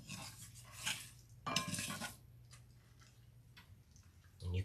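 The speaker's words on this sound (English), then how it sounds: "wait till those mustard seeds, cumin seeds, and coriander start to pop" Mustard, cumin and coriander seeds crackle in hot oil while the spices are tempered for a lotus root stir-fry, giving sparse, faint ticking pops with brief louder bursts near the start and end.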